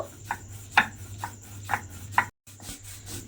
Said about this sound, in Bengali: দেখুন আমি কিন্তু প্রথমে শুকনো এটা একটু বেটে নেব